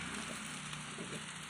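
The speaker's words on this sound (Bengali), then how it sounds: "হলুদটা দিয়ে দিচ্ছি একটু।" Turmeric goes into a hot frying pan with steady sizzling and scraping stirs throughout, ending in a louder clatter at the very end.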